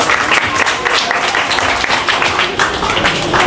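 Loud, continuous audience applause at a poetry gathering (kavi sammelan and mushaira) in a school hall, dense clapping sustained from start to finish with no speech.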